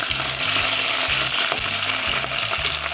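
Crushed ginger, garlic, green chillies and curry leaves fry in hot oil for a fish curry, a steady close sizzle with soft stirring scrapes repeating in a regular rhythm.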